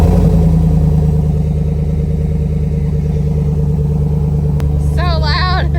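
An SUV engine fitted with an aftermarket cam and tune running loud, with a steady, lumpy, rumbling idle throughout and a voice talking over it near the end.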